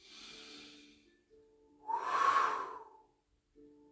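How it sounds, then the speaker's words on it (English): Pursed-lip breathing: a soft inhale through the nose, then a louder, longer breathy exhale pushed out through pursed lips with a faint whistling edge, close and alone, followed by the start of another quiet breath. "We're creating a bit of a whistling sound, and that's called pursed breathing."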